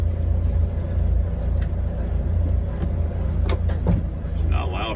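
The engine of a 1995 Beneteau First 42S7 sailboat runs with a steady low rumble, with a few faint clicks and voices over it.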